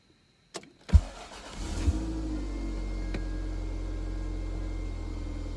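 A 1993 Toyota MR2 engine starts with a couple of sharp clunks and settles into a smooth, steady idle, recorded up close.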